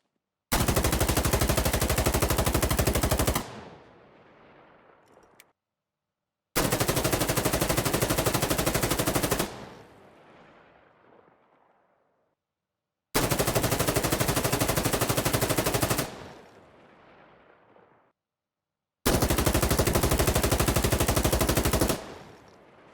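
An M4A1 rifle fires on full auto in the video game Insurgency Sandstorm, played on console. Four loud, sustained bursts of rapid gunfire each last about three seconds, then ring out in a fading echo with short silences between them.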